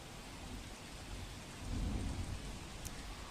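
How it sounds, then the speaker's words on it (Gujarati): Heavy monsoon rain pours down in Kheda district, Gujarat, a dense continuous roar of rain on surfaces with a deep low rumble of thunder swelling midway, no voices. "તો ખેડા જિલ્લાના તમામ તાલુકામાં ધોધમાર વરસાદ નોંધાયો છે।"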